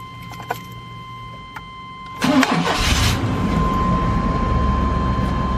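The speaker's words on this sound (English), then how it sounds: "We're going to go ahead and start it." A 1998 Chevrolet C1500 pickup with a 4.3L engine cranks briefly after a dashboard chime and a few clicks, then catches and settles into a steady, loud close idle.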